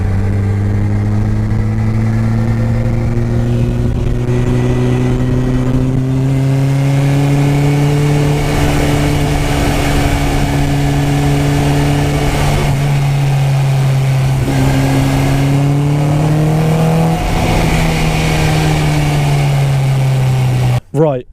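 A 2022 Honda S2000 Indy RR revving hard on the road toward a 9000 rpm limit, its engine note climbing and falling through gears in long loud sweeps, with a voice talking over it.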